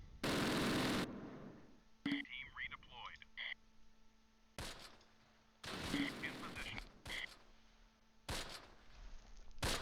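World War II gunfire near Hill 314 in Close Combat: Panthers in the Fog comes as several sharp bursts and volleys with gaps between them. Someone talks in the pauses.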